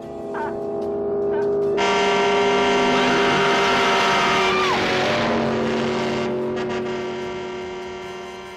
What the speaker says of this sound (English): Wade, I think I hear the engine of that damn car